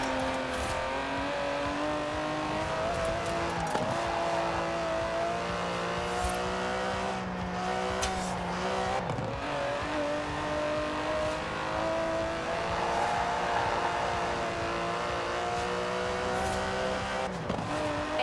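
Aston Martin DB11 with a 5.2-litre twin-turbo V12 in Forza Horizon 4, droning steadily at high revs with rising and falling pitch as it shifts gears, loud and constant throughout.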